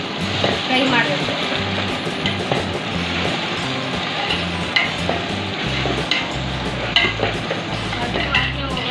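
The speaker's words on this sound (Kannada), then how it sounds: "ಹಸಿ ವಾಸನೆ ಹೋಗೋವರೆಗೂ ಫ್ರೈ ಮಾಡಬೇಕು" Ground masala paste fries for a nati-style chicken biryani, a dense, steady sizzle running the whole time with scraping stirs and small pops close by.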